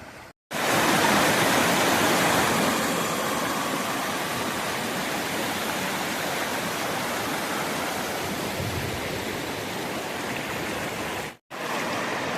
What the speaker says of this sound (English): Got little cascading freshets feeding the main river.